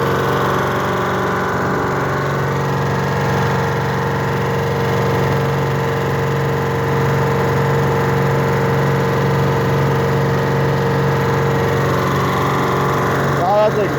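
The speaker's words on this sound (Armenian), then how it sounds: "Без պրոբլեմ աշխատում է կամպրեսորը։" Steady mid-pitched motor drone of a compressor in a water supply setup runs continuously and loudly throughout, with a constant hum and whir and no voices.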